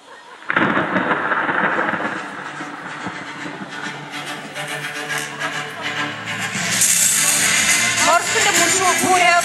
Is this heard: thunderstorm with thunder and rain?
yes